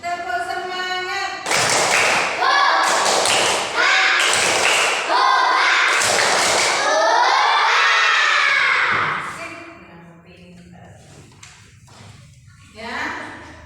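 A school class performs a rhythmic spirit clap, loud patterned bursts of clapping and chanting voices in set beats, then quieter classroom talk.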